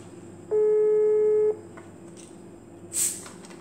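Telephone call connecting: a steady electronic tone held for about a second, a pause with faint line hiss, then a short high beep.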